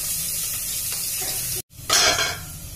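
Sliced onions fry with salt in a hot pan, giving a continuous close sizzle. It breaks off for a moment, then swells into a louder hissing burst as they are stirred, before settling back to a steady fry.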